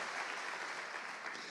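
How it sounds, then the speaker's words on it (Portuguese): Dense, even applause from a church congregation during an evening service, a brief continuous burst of many hands clapping at moderate distance. "Aplauda o Senhor"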